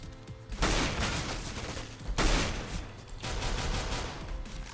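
Gunfire in a Counter-Strike style Minecraft mod, including a Scout rifle, coming as loud bursts of shots with short lulls between them, with little or no talking.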